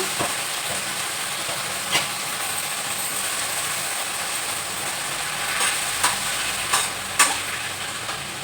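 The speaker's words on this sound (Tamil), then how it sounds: "வதங்கட்டும்" Drumstick leaves sautéing in a pan for a keera poriyal, a steady sizzle running throughout with a few sharper stirring scrapes and clinks near the end, no voices.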